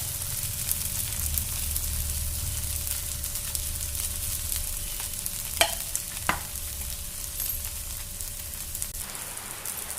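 Onion rava dosa batter sizzles and crackles steadily in hot oil on a pan, with a couple of sharp clinks of a utensil partway through.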